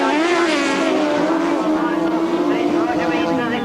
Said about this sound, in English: The revs will start to go up.